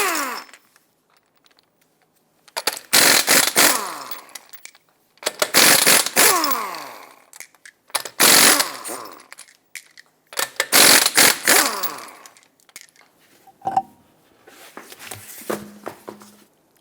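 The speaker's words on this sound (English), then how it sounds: "Use a 21mm socket and remove all 5 of your lug nuts and then remove the wheel." A power impact tool buzzes loud and close in five separate bursts with short gaps, spinning off the wheel lug nuts of a Mazda 6 with a 21mm socket, and a few faint clinks come near the end.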